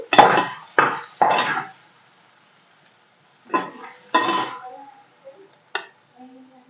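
Cooked ridge gourd and coriander are moved from a pan onto a plate in a home kitchen, giving several close scraping and clinking knocks of a spoon against cookware, followed by quieter taps and brief talk.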